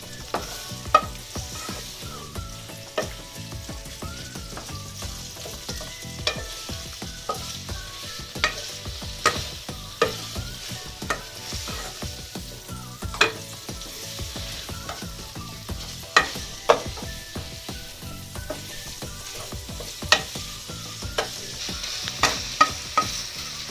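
Minced meat and peppers frying in a pan for Tokat-style tirit, a steady close sizzle with frequent spatula scrapes and stirring clatter throughout, no voices.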